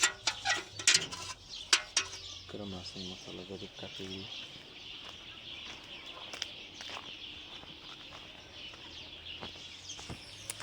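Village chickens cluck in a coop with a few sharp bird calls and clatter early on, then quieter settling sounds, while a person speaks nearby.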